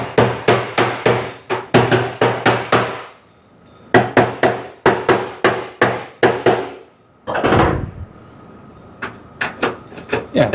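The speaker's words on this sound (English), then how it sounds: "maybe I probably ought not bang on them with a hammer" A hammer taps the door hinges on a 1973 Ford F100 to adjust them. Sharp, close metallic strikes come in quick runs of about six to eight, with short pauses between runs and a duller thump near the end.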